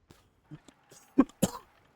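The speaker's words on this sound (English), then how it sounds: "Sorry for the coughs" A man with a cold gives a few short, muffled coughs in quick succession, close and fairly quiet, amid otherwise near-silent background while narrating a strategy game.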